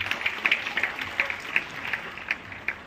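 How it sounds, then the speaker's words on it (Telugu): Scattered, fairly faint claps from an audience at an Ugadi celebration, applauding a group of children; the sharp hand claps come irregularly over about three seconds against a quiet background. "ఒకసారి వీరందరికీ గట్టిగా చప్పట్లు."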